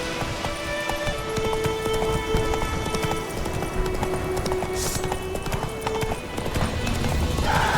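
Horse galloping in The Witcher 3, with steady rapid hoofbeats close and loud over continuous game ambience and a faint sustained musical tone.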